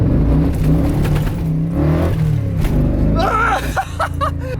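A muscle truck with Holley Sniper EFI and no drag radials accelerates hard from a pull-out, engine roaring up through the revs close by, with a brief tire chirp near the end.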